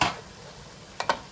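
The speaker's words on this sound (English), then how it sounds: "now we are going to put the prawn paste in and mix with the curry paste together with fish sauce" Prawn paste being stirred into red curry paste in a pan for a Thai fish curry, a faint fry hiss with a few brief scraping strokes of a utensil near the end.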